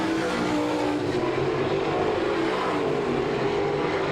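Race cars on a dirt oval at Salina, Kansas, roaring hard out of the final turn, with a dense, continuous engine howl from several cars close by, loud and unbroken throughout.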